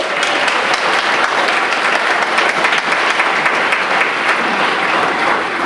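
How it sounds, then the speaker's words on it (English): A crowd at a property tax elimination meeting gives a sustained round of applause, dense steady clapping that fills the room from start to finish with no voices over it. "Give them a round of applause again."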